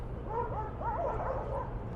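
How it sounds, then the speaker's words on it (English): Dogs squabble at a distance during a walk through Harbourview Park and Lynn Creek in North Vancouver, their yips and whines rising and falling over a steady outdoor rumble. "Ooh, dogs are arguing."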